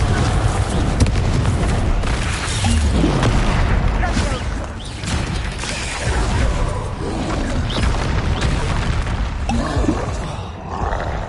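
Confringo spell blasts in Hogwarts Legacy, repeated loud booming explosions and bursts layered over dense combat noise and music, continuous and close throughout.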